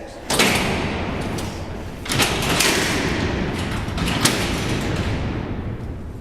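Alcatraz prison cell doors slide along their rails in repeated waves, a loud grinding rumble with sharp metallic bangs at the start of each movement, reverberating through a large cellblock.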